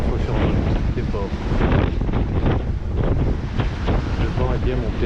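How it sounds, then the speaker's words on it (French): Strong rising wind buffets a sailboat under way at about six knots off Le Lavandou on a grey day, giving a constant rushing and gusting roar with water hiss and faint voices underneath. "Le vent est bien monté, c'est bien gris."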